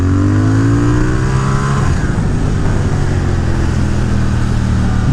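A Triumph Speed Twin motorcycle with a remapped tune accelerates hard in second gear, the engine note climbing then dropping at a shift and pulling again, loud and close with steady wind rush.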